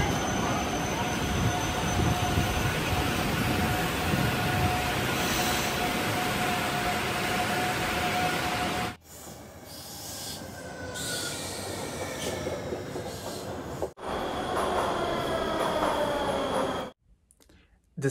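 A Moscow metro train runs on its rails with a loud rumbling roar and a long high wheel squeal, then cuts to quieter stretches of rolling clatter and shifting tones.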